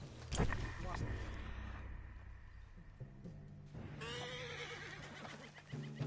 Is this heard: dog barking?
no